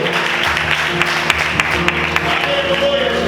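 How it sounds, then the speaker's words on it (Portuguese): Congregation applauding during a church sermon, a dense, steady wash of clapping hands with a few sharper claps standing out, loud and continuous throughout. "Aplaude o Senhor por isso."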